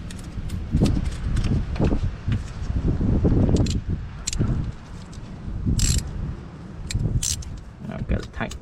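A starter is being installed on a 2005 Scion tC, with metallic clicks, ratcheting and clanks of a tool tightening a part, close and busy, and a person talking over the work.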